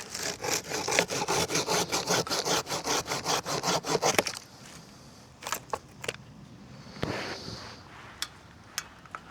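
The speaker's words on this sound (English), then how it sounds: "we start shaving the palm now" A handsaw cuts into the trunk of a Canary Island date palm during pruning, with fast, regular rasping strokes for about four seconds. Scattered scrapes, knocks and crackles of fibrous wood follow.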